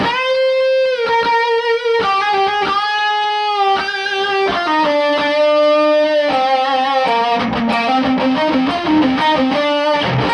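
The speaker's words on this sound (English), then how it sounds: "if I put on this kind of smoothing, so you can see it kind of boosts those mids there" Distorted electric guitar through an ENGL Savage 120W tube amp head with a mid boost plays a sustained melodic lead with a thick, mid-heavy tone, notes ringing and bending steadily for about ten seconds, no talking.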